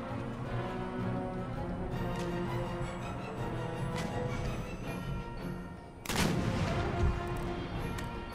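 Musket volleys and canister shot fire in a battle in the video game Empire Total War, dense continuous rattling gunfire throughout with a heavier booming burst partway through.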